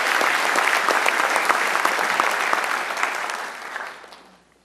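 An audience at a 2011 State of the City address applauds the police department, a dense wash of many hands clapping that holds steadily, then tapers off and fades out near the end.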